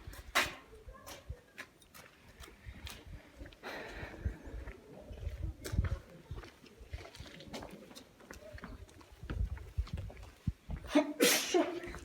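A sneeze in an echoey historic palace interior, sharp and fairly close, set among footsteps, shuffling and scattered voices of visitors exploring the rooms.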